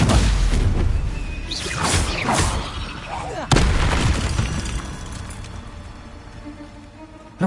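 A Stupefy spell fires in Hogwarts Legacy during a fight with a giant spider, a booming burst with whooshing swirls and a sharp crack midway, then a long decaying rumble and a final thump, loud over busy combat noise.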